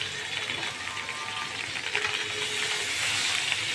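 Ghee sizzling in a hot pan while zarda cooks, a steady close hiss and crackle of frying that grows slightly louder toward the end.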